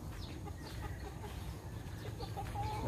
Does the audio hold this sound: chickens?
yes